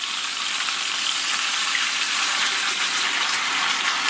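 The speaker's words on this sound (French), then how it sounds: "On rajoute 100 ml d'eau." Water poured into a hot cast-iron aluminium induction tajine holding browning chicken, potatoes, onion and garlic, giving a steady, loud broadband gush and hiss that holds evenly for about four seconds with no voices.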